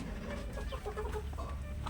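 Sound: free-range chickens clucking in lemon orchard

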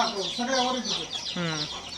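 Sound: hens clucking in a cattle shed storage

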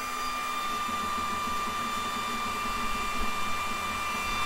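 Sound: Sculpfun S30 Ultra 22W laser engraver engraving wood

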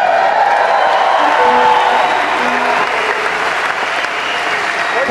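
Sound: large concert crowd applauding and cheering

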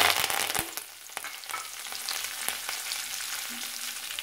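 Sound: urad dal, curry leaves and coriander frying in oil

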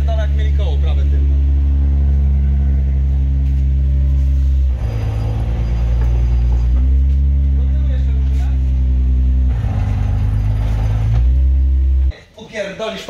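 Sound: car rear wheel spinning on clutch release, differential test

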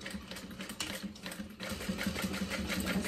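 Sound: sewing machine top stitching through fabric seam

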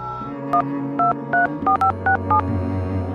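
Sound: telephone number being dialed, touch tones

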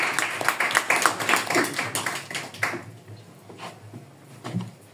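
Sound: audience applause at open mic

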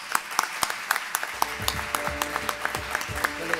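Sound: applause

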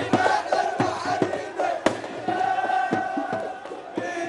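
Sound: Iraqi football fans cheering in Tahrir Square, Baghdad

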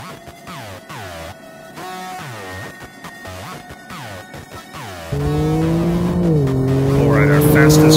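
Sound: Chevrolet Colorado ZR2 truck accelerating in quarter-mile test runs

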